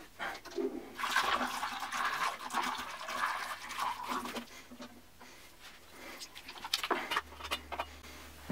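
Water rinses through a PC water-cooling radiator, sloshing and gurgling faintly with uneven splashes and a few metallic knocks.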